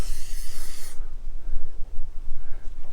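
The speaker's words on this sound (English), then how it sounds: "And then we'll give it a bit of a spray up there, and then on the top, not on the lens" Insect repellent sprayed from an aerosol can around an outdoor security camera, one loud close hiss lasting about a second, then quieter rustling and faint breathy sounds with no talking.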